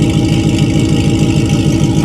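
A Pontiac GTO engine idling loudly and close, with a steady low rumbling pulse and no voices.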